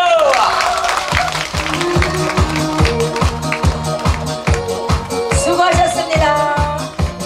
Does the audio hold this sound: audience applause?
yes